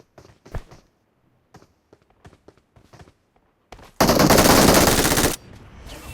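Gunfire in the mobile battle game PUBG Mobile: a few scattered distant single shots, then a loud sustained burst of automatic fire for over a second, followed by a fading echo.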